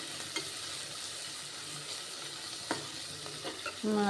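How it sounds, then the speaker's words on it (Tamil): Onions sauté in a pan for a mutton gravy, a faint continuous sizzle with a few light stirring clicks and a louder scrape near the end, no voices present. "வெங்காயம் நல்லா வதங்கட்டும்."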